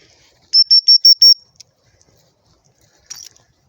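A dog whistle blown outdoors to recall an aging dog, five short sharp pips in quick succession, then a single brief blast about two seconds later, loud and near against otherwise near-silence.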